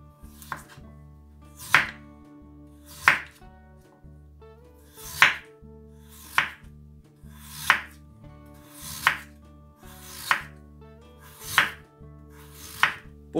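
A kitchen knife cuts peeled potatoes into thin slices on a board, around ten sharp, steady knocks close by, each cut clear and separate over a faint background hum, with no speech.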